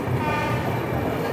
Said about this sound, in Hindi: साथ में ओवरटेक भी मार रहे हैं महाकौशल एक्सप्रेस को